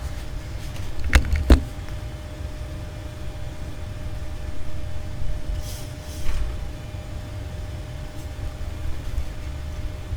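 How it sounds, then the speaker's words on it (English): Two quick door thuds land close together near the start, followed by a quiet room with a low hum and faint shuffling. "I just close the doors just in case"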